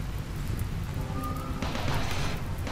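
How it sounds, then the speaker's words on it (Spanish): Steady rain falling in the video game Rimworld, a continuous hiss of rainfall with a low rumble beneath and a brief tonal game sound partway through. "Menos mal que está lloviendo, tío"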